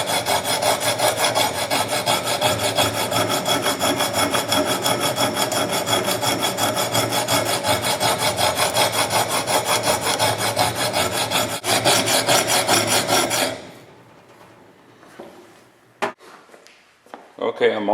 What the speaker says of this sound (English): we're going to start off with the 50 grit, diamond grit. This stuff really cuts fast